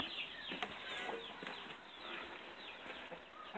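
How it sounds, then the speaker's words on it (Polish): A flock of sixteen or seventeen adult hens and one rooster clucks and murmurs inside a chicken coop, a faint, continuous babble of overlapping calls. "16 albo 17 sztuk dorosłych kur plus kogut."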